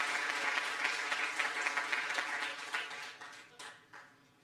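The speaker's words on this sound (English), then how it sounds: "Another round of applause" Another round of audience applause for the team at an exhibition opening, heard as a full room of steady clapping that tapers into scattered claps and fades out.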